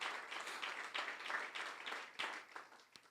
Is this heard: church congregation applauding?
yes